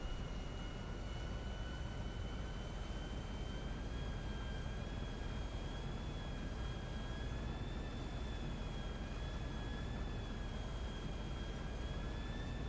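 A propeller or jet airplane climbs steadily in Grand Theft Auto 5, a constant close engine roar with a sustained whining tone that holds even from start to end, with no talking.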